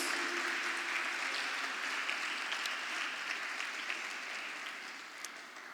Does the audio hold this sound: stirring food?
no